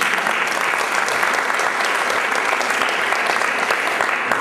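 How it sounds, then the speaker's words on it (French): Loud, close audience applause for presenters at a community event in Dijon, a dense, sustained patter of many hands clapping with individual sharp claps standing out. "Vous pouvez les applaudir, ça fait des mois qu'ils travaillent sur ces thématiques"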